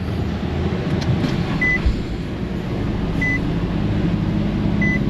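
A Nissan Rogue engine idling steadily after an engine mount replacement in an auto repair shop, a loud low continuous rumble with a few faint short beeps over it.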